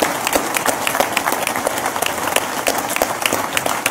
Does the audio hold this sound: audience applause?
yes